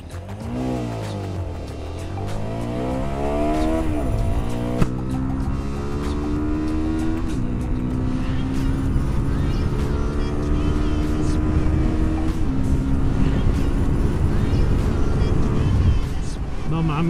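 A CFMOTO 300 SR motorcycle accelerates hard through its gears in a timed test, engine pitch climbing in repeated rising sweeps with brief drops at each shift, loud and continuous throughout.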